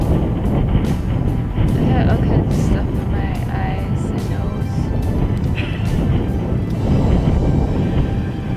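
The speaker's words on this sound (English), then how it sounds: "So the wind out here is just absolutely crazy." Strong outdoor wind gusting at an off-grid homestead, up to about 30 miles per hour, heard as a constant loud roar and buffeting on the microphone, with a voice talking over it.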